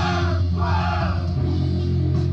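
Several members of a heavy-music band shout and yell together into an omnidirectional microphone during a recording session, a loud, dense, continuous burst of overlapping voices.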